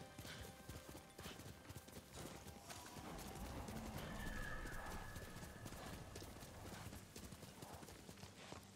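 Rapid, rhythmic hoofbeats of a galloping horse in the video game Ghost of Tsushima, steady and fairly close, with a brief whinny in the middle.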